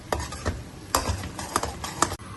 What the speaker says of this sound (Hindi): हल्का सा मसाले को भून लेंगे क्योंकि इसमें हमने मैदा शामिल किया था।